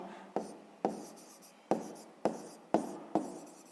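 Pen scratching on paper while working a sixth-grade math exercise, six short quiet strokes, each starting with a sharp tap and trailing off, close and alone.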